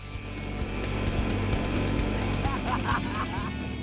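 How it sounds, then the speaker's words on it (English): Seabirds work over an oyster bar on a coastal trout-fishing trip, giving scattered honking calls over a constant low engine-like drone, with a brief cluster of cries near the end. "we came across these birds working on this oyster bar right here"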